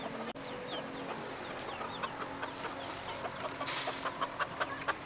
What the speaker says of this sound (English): There's 10 chickens in here